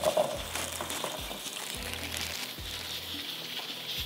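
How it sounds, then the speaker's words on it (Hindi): Chicken kofta frying in hot oil, a close, steady sizzle with repeated low clunks and scrapes as pieces are moved in the pan, no talk. "मैं इसको ऑयल में डालूंगी, थोड़ा सा फ्राई करके निकालूंगी"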